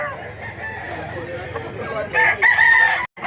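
A large rooster crows nearby over a low murmur of background noise, its call rising loud near the end before cutting off.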